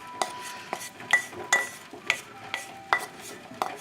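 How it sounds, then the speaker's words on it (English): Vegetables for a vegetarian corn chowder are stirred in a pot, a spoon knocking and scraping the metal in roughly regular, distinct strokes about twice a second, close and moderately loud, with a faint sizzle beneath. "So now we'll add the vegetables"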